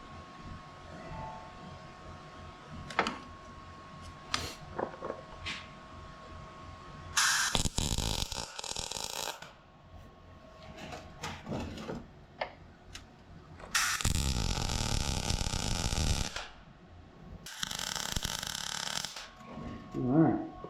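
Welding a step notch on a 59 Apache, heard as three separate stretches of steady, harsh crackling buzz with quieter gaps of faint clatter between them.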